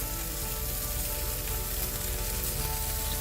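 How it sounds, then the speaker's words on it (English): Beef patty made from 92% lean beef and onions sizzle steadily on a grill, a dense, continuous frying hiss that holds at an even level throughout with no talking. "We're going to continue cooking that and wait for our onions to char."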